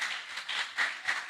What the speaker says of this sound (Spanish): Démosle esas palmas al Señor.